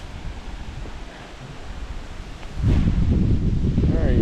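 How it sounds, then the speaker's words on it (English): Wind gusts through a southern garden on a blustery day, a steady low rush that swells sharply louder partway through and holds there, with no talk over it. "Real windy day here in the south."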